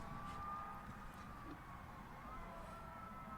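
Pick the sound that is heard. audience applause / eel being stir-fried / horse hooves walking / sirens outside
sirens outside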